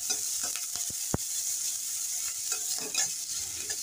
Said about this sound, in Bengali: পেঁয়াজ কুচোটাকেও 1-2 মিনিট নেড়ে নিচ্ছি।